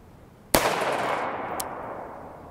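A 5.56x45mm 77gr MK262 Mod 0 rifle round fired from a 16-inch barrel into a test block gives one sudden, loud crack, followed by a long, reverberant tail that slowly fades.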